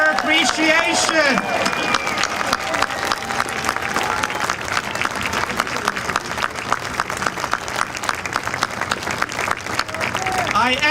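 A large outdoor crowd at a monument dedication claps continuously and enthusiastically for about eleven seconds, loud and dense, with a few shouted voices near the start.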